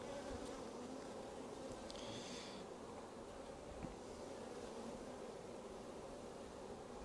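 Honeybees buzz around a hive in a continuous, fairly faint droning hum, with a few closer passes standing out briefly and no one speaking.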